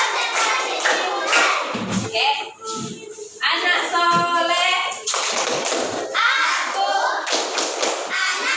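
A class of children does the rhythmic tepuk konsentrasi concentration clap, with sharp, patterned hand claps and taps close by, interleaved with the group chanting along to the beat.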